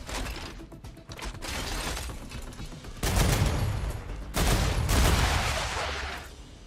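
Weapon reload in the StarRupture video game: mechanical clicks and clacks of a magazine change amid bursts of loud gunfire and game noise, with no speech over it.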